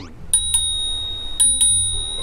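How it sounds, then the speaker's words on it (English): Bicycle bell on a bike for a roughly 15-mile ride, rung in two quick pairs of bright metallic dings, close and clear with a little faint background sound between. "I didn't even know I had a bell."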